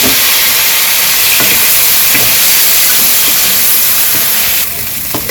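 Diced potatoes and eggplant sizzle loudly in hot oil with black mustard seed in a village-style kitchen, a dense steady hiss with occasional crackles, close up and without talk.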